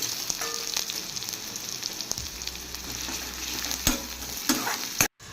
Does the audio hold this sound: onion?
yes